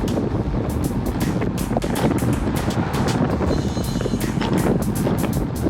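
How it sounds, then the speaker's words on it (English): Heavy wind buffets the microphone during a group road bike ride on a flat road into a headwind, a loud continuous roar with rapid gusty pulses and no talking. "Listen to that wind."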